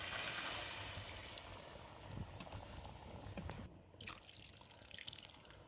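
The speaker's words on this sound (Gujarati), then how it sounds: "આપણું પાણી ઉમેરી દઈશું જોતા પ્રમાણે" Soft trickling and dripping of water poured into a pot of simmering green chickpea curry, fairly quiet with a faint bubbling background.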